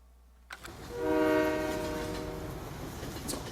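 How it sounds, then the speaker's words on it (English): A train in the video game Farming Simulator 19, heard up close: a sharp onset followed by a loud sustained horn tone over rumbling wheels that lingers and slowly fades. "That train is insanely loud when you're right here."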